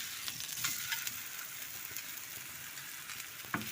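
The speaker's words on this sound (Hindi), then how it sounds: "ये हमारी रोटी पक रही है मकई की दूसरी" A makki corn roti cooks on a hot griddle with a soft, steady sizzle and faint crackling pops, quiet and close, with no talking.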